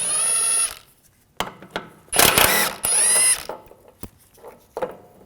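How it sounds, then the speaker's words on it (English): Ratchet fitted with a 13mm socket loosening sway bar link bolts on a 2006-2009 Audi S4 rear suspension, heard as bursts of close metallic clicking and whirring separated by short pauses. "Using a 13mm socket, take these two bolts out."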